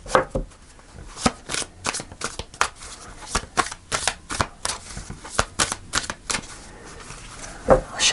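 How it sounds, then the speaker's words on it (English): Rapid papery riffling of tarot cards being shuffled in quick bursts, with short pauses between, close up and fairly quiet. "I'll shuffle one more time."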